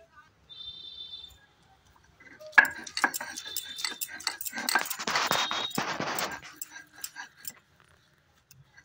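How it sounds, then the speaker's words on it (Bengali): Ingredients for a flat bean paste are ground by hand on a stone grinding slab, with scraping, knocking strokes and gritty rubbing that build in the middle. A few clinks sound near the start, and faint quiet gaps fall between strokes. "এবার আমি এগুলোকে সিলে বেটে নিচ্ছি।"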